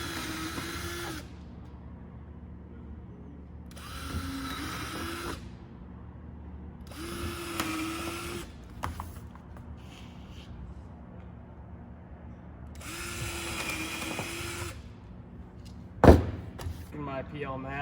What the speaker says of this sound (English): I'm going to drill 4 holes.